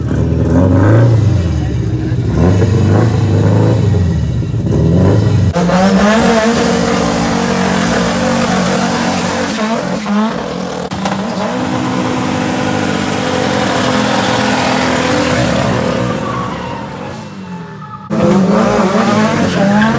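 A front-wheel-drive street car revs at the line at a Boksburg drag racing event. It launches hard with tyre squeal, then holds a loud, high, straining engine note for many seconds before abruptly cutting off.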